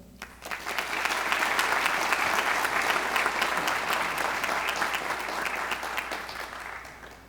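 An audience claps steadily to welcome Dr. Jerry Blasingame, a dense, sustained round of applause that swells quickly and fades near the end.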